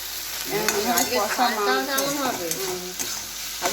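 Curry paste being sautéed and stirred in a pan, loud and close, with a steady sizzle and repeated scraping strokes of a spoon across the pan.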